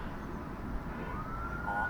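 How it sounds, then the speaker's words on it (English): Distant siren and horn in a UK street, faint and steady under background noise, a short wailing tone rising near the end. "the horn and the siren."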